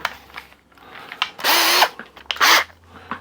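Cordless power drill with a screwdriver bit driving wood screws through washers into a gun vise mount, two short loud bursts of whirring, close by, between quiet handling noises.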